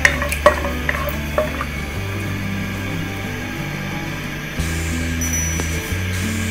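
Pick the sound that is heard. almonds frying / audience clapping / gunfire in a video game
almonds frying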